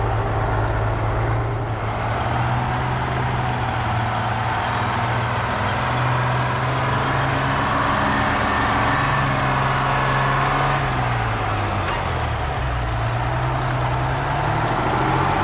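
A Detroit 6V92 diesel in a day cab truck runs loud and close, a steady low rumble with a droning hum that rises and dips gently in pitch, alone without voices.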